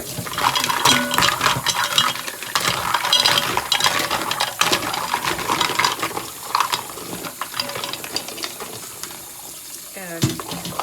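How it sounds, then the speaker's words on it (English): Cooked mussels and clams are rinsed under running water, with busy splashing and the clatter of shells knocking together throughout, a brief voice near the end. "So now, what am I going to do? I'm just going to rinse them."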